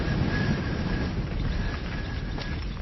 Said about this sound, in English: Just then, there was a big gust of wind.